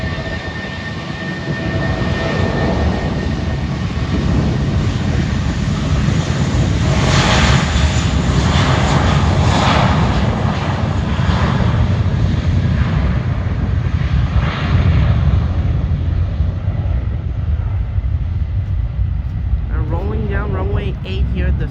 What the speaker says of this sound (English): JetBlue flight 1735 heading to, correction, 1703 heading to Medellin on an A320 Classic in the Vacations livery.